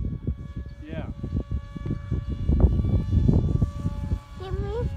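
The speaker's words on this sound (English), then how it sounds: "Imagine if this engine was quiet, then it'd be like a stealth drone then, eh?" Small propeller engine of a 3D printed Northern Pike model drone on its first flight test, a buzzing drone that rises and falls and runs steadily throughout, mixed with voices talking nearby.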